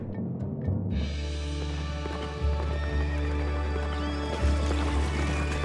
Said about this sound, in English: A stampede of charging horses came to greet them.